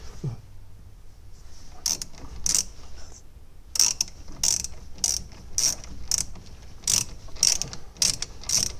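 Ratchet wrench tightening bolts on a Toyota Aygo's brakes during a disc and pad change, giving close, loud bursts of rapid clicking in a steady back-and-forth rhythm over a low background hum.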